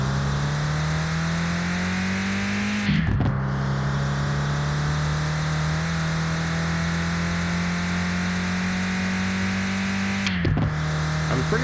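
A car engine in the driving game Mon Bazou hums at a steady mid pitch while cruising, with two brief gear-shift dips where the tone drops and recovers, loud and close with no talking.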